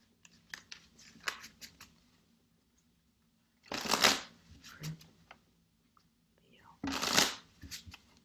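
Tarot cards shuffled close up during a psychic reading, a couple of bursts of riffling each lasting under a second, separated by quieter card handling and soft taps.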